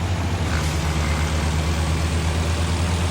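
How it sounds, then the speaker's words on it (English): Kenworth W900 truck engine in American Truck Simulator, a loud steady low diesel rumble running continuously and close, with no talk over it. "You guys want to hear the engine a little bit?"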